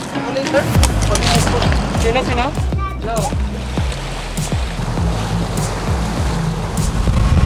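A motorboat engine drones as the hull slaps over waves heading to Coron Island, Philippines, with wind buffeting and rushing water throughout.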